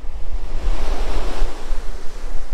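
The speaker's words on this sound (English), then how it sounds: "Look at these waves, man." Ocean surf breaks and rushes continuously onto a shell-covered beach, a loud close roar with wind buffeting the microphone and no voices.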